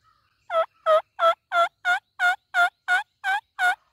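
Wild turkey toms during a hunt, heard as a string of about ten loud, evenly spaced gobbling calls close by, repeated in a steady rhythm against near silence.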